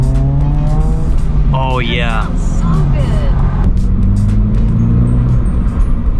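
A Honda Civic with dual exhaust rumbles nearby at a car meet in Dallas, a loud steady engine drone with shifting tones under people talking.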